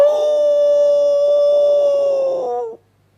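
A human voice imitates a dog howling at night, one long sustained wavering howl lasting under three seconds that falls slightly in pitch and cuts off sharply, loud and close.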